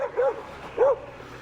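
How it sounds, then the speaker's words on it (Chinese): Two sharp dog barks, a short pause between them, from a dog met at the roadside before a Honda CB650R motorcycle ride; loud and close, with no talk over them. "狗狗不要凶嘛"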